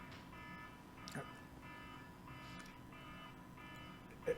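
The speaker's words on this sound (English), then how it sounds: "I hear an alarm" An electronic alarm beeps indoors during a conversation, repeating bursts of tone in a steady rhythm, faint and partly under people talking.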